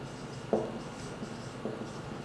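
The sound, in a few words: marker writing on a board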